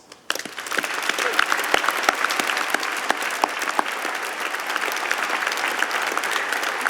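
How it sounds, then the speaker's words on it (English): A large audience at a spring business school convocation ceremony applauds the graduating class, dense sustained clapping that swells in quickly and holds steady, with scattered louder claps near the microphone. "let us give you a well-deserved round of applause."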